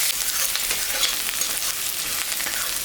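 Onion frying in oil in a pan for a tangra fish curry makes a dense, even sizzle, close and loud with no pause and no voices.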